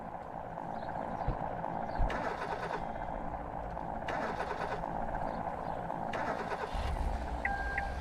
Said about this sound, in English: I don't like the alarms, the alarm system on this sound overhaul, because it sounds like you're backing up